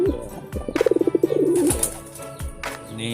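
A brooding pigeon gives a close, rapid rolling coo, a quick pulsing burst in the middle of the clip, with faint wing rustles and soft thumps around it.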